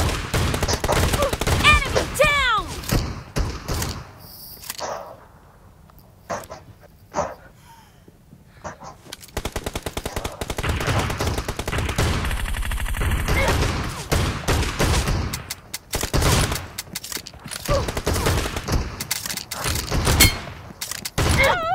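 Bursts of rapid gunfire in PUBG Mobile rattle repeatedly, with quieter gaps between volleys, loud and close.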